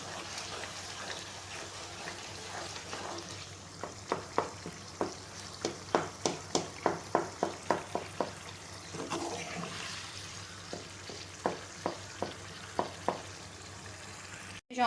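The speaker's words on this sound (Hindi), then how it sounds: "थोड़ा सा भूनें ताकि हमारे टमाटर जो है वो बिल्कुल पेस्ट की शक्ल में आ जाएं।" Tomato masala with ginger powder fries in a pan for potato curry under a soft, steady hiss, broken by a run of sharp rhythmic spatula scrapes and taps in the middle, then a few more later; no talking.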